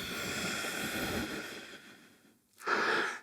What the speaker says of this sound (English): Deep, full breathing.